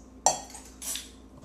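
Eggs are cracked for biscotti dough, making two sharp taps against a bowl about half a second apart, close and clear, with faint bright clinks trailing after each. No one speaks.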